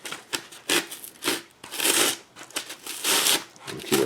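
A blade shaving and cutting down a foam or card terrain piece for a tabletop game to flatten it, repeated close scraping and rasping strokes at an uneven rhythm.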